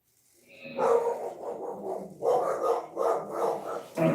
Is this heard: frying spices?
no